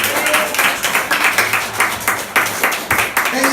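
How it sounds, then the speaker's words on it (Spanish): A church congregation claps in a quick, uneven rhythm, a crisp burst of applause close by, with a voice faintly mixed in underneath. "denle un aplauso a Cristo"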